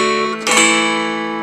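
Mountain dulcimer picking a single measure of a holiday tune exactly as written, sustained plucked notes with a brighter strum partway through, ringing steadily and close.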